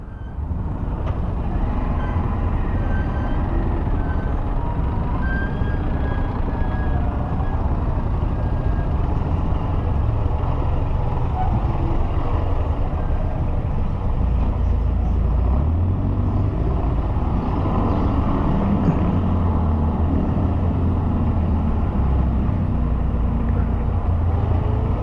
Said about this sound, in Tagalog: Nandito na yung traffic.